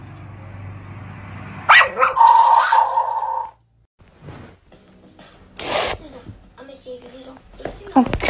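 A dog barks a few times amid a noisy home scene, with a person also imitating woofs; sharp yelps and an electric drill-like whir mix under frequent speech.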